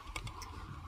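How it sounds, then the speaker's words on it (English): Shoes clicking on pavement outside a house at night: three faint, sharp clicks in the first half-second over a low background hum, then quiet. "Oh, that's my shoes I hear."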